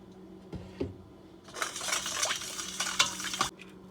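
Egg, vanilla essence and liquid butter mixed together in a bowl for cinnamon roll dough, giving a few soft clinks and then a short burst of quiet scraping and sloshing strokes.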